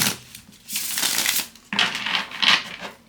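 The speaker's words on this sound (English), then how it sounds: "Did I already? Did I shuffle this 3 times?" A deck of tarot cards is shuffled by hand in two riffling bursts, close and crisp, with a brief pause between them.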